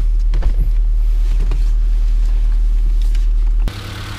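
A used Renault Samsung New SM5 car engine idles while warming up with a steady low rumble, a few faint clicks over it, then the tone shifts abruptly near the end.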